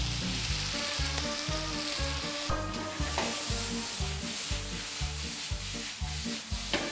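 Blanched rapini with split stems sizzles loudly in a hot pan for pasta Molisana, a dense, close frying crackle with rhythmic scraping and tossing throughout.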